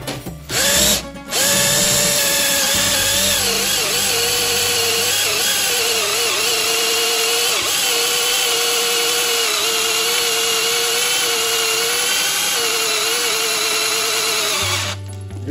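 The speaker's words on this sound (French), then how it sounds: "pour pouvoir percer comme ça" A power drill bores into a welded fairing mount on a Honda CRF450R supermoto, fitting a chain guide, with a loud, steady, high whine held close for most of the run that starts and stops abruptly.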